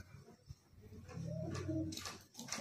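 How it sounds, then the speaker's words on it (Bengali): A male Kalshira pigeon coos softly and close by, a low rolling call over about a second, followed by faint bird chirps and light rustling. "এখানে দেখতে পাচ্ছেন একটা কালশিরা নর পায়রা আছে"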